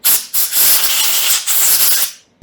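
Compressed air blasting through a carburetor jet from an Ariens snow blower, heard as three loud, close bursts of hissing air separated by brief pauses.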